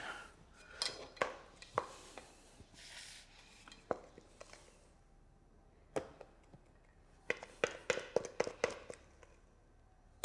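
Filling spooned into a pastry shell for a dessert: a series of sharp taps and clicks of the spoon against the shell and bowl, clustered at the start and the end of a short, quiet stretch.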